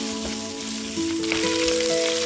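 Sliced pork belly sizzles in hot oil in a wok, with a steady, close, crackling fry throughout and faint background music.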